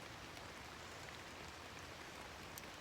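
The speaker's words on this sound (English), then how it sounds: "It started raining harder." Rain falls as a dense, even hiss of drops, steady and quite faint throughout with no talking.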